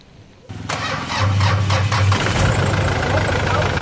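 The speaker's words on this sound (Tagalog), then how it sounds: "pwede ko nang pa-start kay customer itong makina niya" A Hyundai Starex engine cranks briefly, catches, and settles into a loud, steady running rumble close by, just after an oil change.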